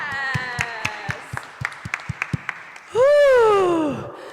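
Participants at a Union Chapel sound bath session clap for themselves after a movement exercise. The claps come as scattered, spaced beats under a sustained voice, followed by a loud, drawn-out vocal exhale.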